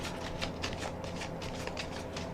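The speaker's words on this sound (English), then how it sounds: "Let's put another shuffle and rifle on the deck." A tarot card deck is riffle shuffled close up, a quick run of crisp flutters and card slaps that repeats rhythmically and quietly with no voices.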